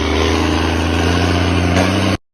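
A man snoring loudly with a deep, constant mechanical drone like a running concrete mixer or idling engine, steady and unbroken for about two seconds before cutting off abruptly.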